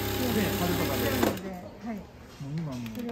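A sewing machine runs steadily while stitching thin tulle fabric, a loud droning whir that stops abruptly partway through, after which people talk.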